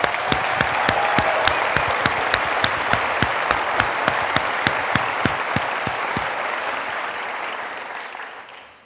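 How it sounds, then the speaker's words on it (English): An audience applauds at a medical school white coat ceremony, with sustained, even clapping filling the hall before it tapers off and fades at the end. "How about a round of applause for that?"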